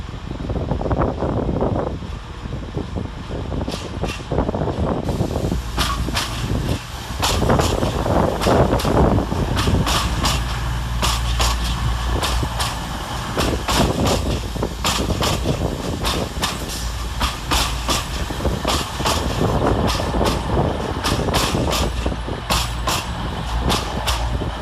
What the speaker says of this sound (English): Terminating with an East Midlands Railway service from London St Pancras International is